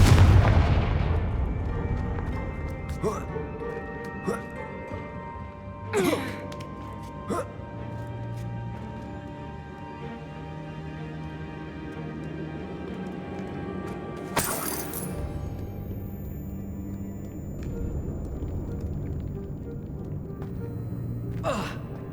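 Confringo fire spells in Hogwarts Legacy burst into several sharp blasts, the loudest around the middle and later, set against quieter in-game ambience and rumble.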